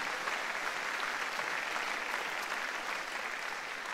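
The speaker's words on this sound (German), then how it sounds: "dass wir an dieser Stelle Gott mal einen mächtigen Applaus geben" A church congregation delivers loud, sustained applause, a thick continuous clatter of many hands clapping with no talk over it.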